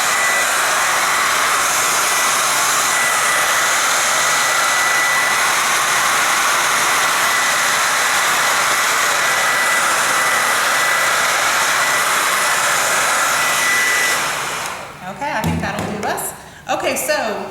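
A hair dryer blows hot air to dry paint on paper at a 4th of July firework art project, a loud, steady roar running for about fourteen seconds before cutting off, followed by brief handling noises.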